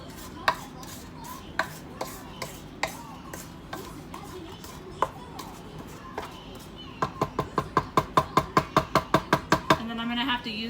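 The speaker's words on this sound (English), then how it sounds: "I have to use like a spatula or a spoon to scrape it so it'll get it" A spatula scrapes butter and cookie dough around a mixing bowl for pumpkin cookies, giving sparse scraping strokes that speed into a rapid, steady run of rhythmic scrapes near the end.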